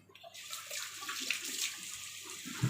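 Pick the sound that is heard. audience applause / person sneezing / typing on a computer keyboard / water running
water running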